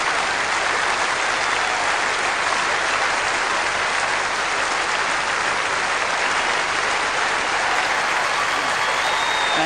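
A tennis crowd at the Queen's Club final gives a standing ovation after championship point, steady dense applause filling the whole stretch without break, broad and fairly distant, with no clear voices over it.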